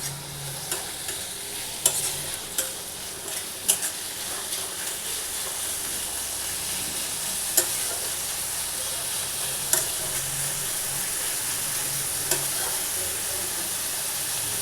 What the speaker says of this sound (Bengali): দিয়ে এটা আমি একটু ভাজা ভাজা করে নেব